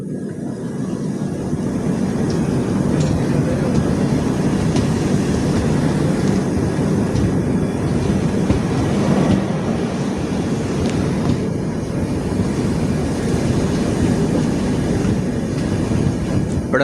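Mangala Express train rolling along the rails, a loud steady rumble and rattle heard from aboard, with occasional clanks and creaks over the continuous roar.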